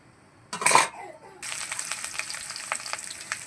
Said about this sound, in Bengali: জোরে করে দিয়ে পেঁয়াজটা আমি লাল লাল করে ভেজে নেব